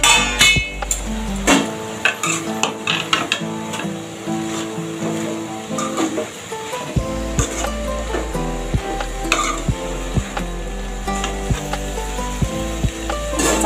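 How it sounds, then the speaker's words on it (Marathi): A lid is lifted off a pan and vegetables are stirred with a spoon. Steady sizzling runs under repeated scraping and metallic clinks against the pan, all close up. "आता झाकण उघडून परत परतवून घ्यायची।"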